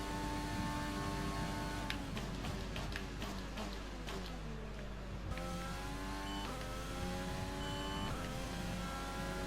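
A Formula 1 car in F1 2020 runs at the Italian round, its engine droning steadily with a sequence of quick gear-shift ticks and pitch sweeps as it crosses the line, loud and continuous with no talk.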